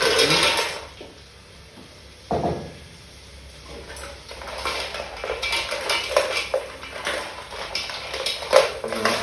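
Mussel shells clatter and scrape against metal as they are tipped into a pan, followed by lighter rattling and stirring sounds.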